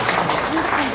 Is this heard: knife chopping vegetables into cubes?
no